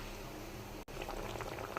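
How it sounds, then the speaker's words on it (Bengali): Soft bubbling of water at a boil in a pot, a gentle continuous churn with a brief dropout partway through. "তো জলটা ফুটছে"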